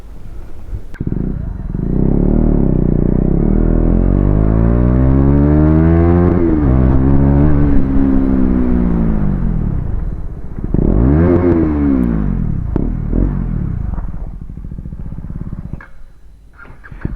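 A KTM Duke 250 BS4 motorcycle fitted with a Leo Vince exhaust on a test ride: a loud, close engine revs up and down in long sweeps, settling to a lower drone near the end.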